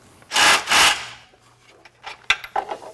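The top bolt on an Ironman 4x4 Raid full-length front bumper fitted to a Jeep Wrangler JL Unlimited is loosened: two loud raspy ratcheting bursts, then scattered metallic clicks and tool handling.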